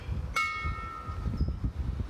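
A single ceremonial memorial bell struck once outdoors at a Memorial Weekend flag raising ceremony, a clear ringing tone that lingers and fades over a low outdoor rumble.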